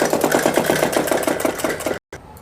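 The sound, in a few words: sewing machine stitching a suit sleeve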